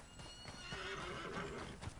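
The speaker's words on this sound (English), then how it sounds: "let me go get this horse" A horse in the Red Dead Online video game whinnies loudly with a rising neigh, mixed with clip-clopping hooves close by, all without talk.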